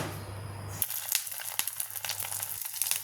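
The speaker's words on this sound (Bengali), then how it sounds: "এখন আমি ডিমের ভিতরে মিষ্টি কুমড়ার ফুলটা দিয়ে দিব আর চুবিয়ে চুবিয়ে গরম তেলে ছেড়ে দেব।" Pumpkin flowers dipped in beaten egg are dropped into hot oil, setting off a close, steady crackling sizzle with scattered sharp pops that continues throughout, with no talking.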